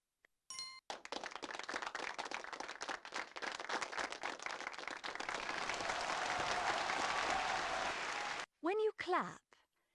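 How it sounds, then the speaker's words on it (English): A burst of hands clapping in applause fills a children's dictionary game, dense crackling claps lasting about eight seconds after a short chime, followed by a few bright, bouncy tones. "When you clap, you bring your hands together quickly to make a loud."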